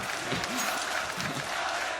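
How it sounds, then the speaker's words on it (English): Esports arena crowd at a Counter-Strike match in Katowice, chanting together for a 16-0 scoreline, a dense, loud, rhythmic roar of many voices filling the space throughout. "The crowd are singing for 16-0."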